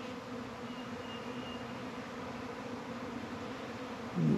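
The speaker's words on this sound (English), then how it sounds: "there is a cloud of bees out here" An outdoor swarm of honey bees forms a steady, low, continuous buzz that stays fairly faint throughout, with one louder bee passing close near the end.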